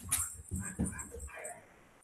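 Dogs whimper and yip in short, faint bursts close by, with light scuffling as they run around indoors.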